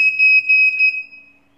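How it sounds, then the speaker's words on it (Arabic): An access control system's keypad gives two sharp, loud electronic beeps in quick succession while being programmed, the steady tone then fading away over about a second with no talk. "هاكا تسوى دو بيب"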